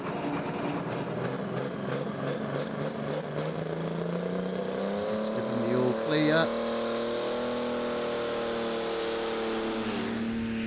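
A pulling tractor's engine roars at a floodlit tractor pulling finals, a loud sustained drone that rises steadily in pitch as it powers down the track, with a brief surge near the middle and a commentator speaking over it.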